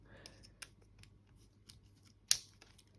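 An nVidia Shield game controller rattles in the hand with a few faint loose clicks and one sharper clack near the end, close and quiet.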